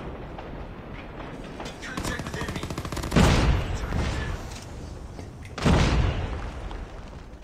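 Gunfire in a first-person shooter game, PPSh rounds and other weapons rattling in quick bursts with two heavier booming blasts, mixed beneath players chatting over voice chat.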